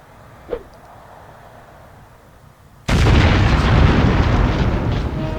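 Grenade blast hitting an armored car in the video game Hidden and Dangerous Deluxe: after a quiet stretch with one small pop, a sudden loud explosion erupts and rolls on as a dense, sustained roar.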